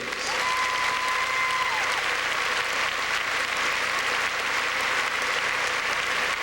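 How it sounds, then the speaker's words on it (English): Sustained applause from a large pageant audience at the Miss Universe 1987 show, loud and steady throughout, with a faint tonal line sliding above the clapping early on. "Along with the applause of our audience"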